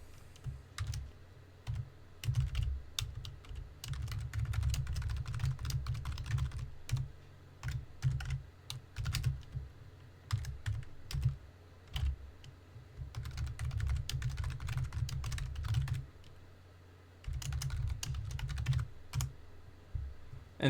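Commands typed on a computer keyboard: bursts of rapid, close key clicks and clacks with short pauses between runs, carrying on for about twenty seconds with no talking.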